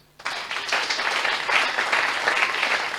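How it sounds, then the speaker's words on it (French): Church congregation applauding for Jesus, a sudden burst of steady, dense clapping from a crowd that holds for a few seconds. "Est-ce qu'on peut acclamer pour Jésus?"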